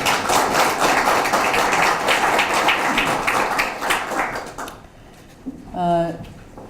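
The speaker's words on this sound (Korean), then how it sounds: "우리 이정우 교수님께 박수 한번 보내주십시오" Audience applause for Professor Lee Jeong-woo, former policy chief, fills a morning land-reform debate hall for about five seconds as dense, steady clapping, then fades into quiet with a brief voice near the end.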